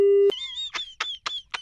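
A phone call cuts off into a short steady tone, followed by a few squeaky, chirping bursts at a quick, regular rhythm, close and clear with no talking.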